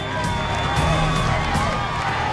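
A Total Wipeout studio crowd cheers and whoops in a steady, loud roar that fills the whole moment, with a commentator's voice mixed in.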